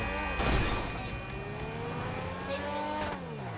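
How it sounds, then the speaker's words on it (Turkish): A fast car drives in the video game Grand Theft Auto V, with a loud engine rising and falling in pitch as it revs, and brief tire noise mixed into the steady drone. "Böyle bir araba da çok hızlı gidiyor."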